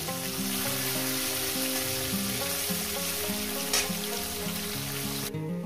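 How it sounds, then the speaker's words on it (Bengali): Small fish frying in hot oil for a cauliflower dish, a steady dense sizzle that runs loud and unbroken throughout, with one brief sharper crackle near the end. "মাছগুলো আমি লাল লাল করে ভেজে নেব।"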